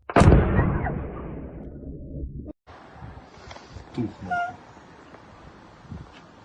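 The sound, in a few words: explosions from drone strikes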